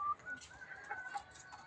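Chickens cluck faintly on a rooftop at feeding time, a few short calls scattered over quiet background noise.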